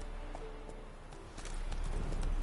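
Hooves of Roach, the horse in The Witcher 3, clip-clop in a quiet run of steps that grows somewhat louder and denser toward the end, with no voices.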